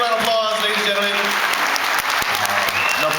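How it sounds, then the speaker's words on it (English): Dense, loud audience applause for performers at a live Hawaiian music show, continuous clapping from a crowd throughout the short span. "Give them all a big round of applause, ladies and gentlemen."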